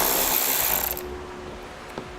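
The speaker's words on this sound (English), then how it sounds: "So we'll use an 8mm socket." A ratchet fitted with an 8mm socket backs out screws during a trailer hitch install, giving a close burst of rapid clicking that stops abruptly, followed by a couple of faint taps.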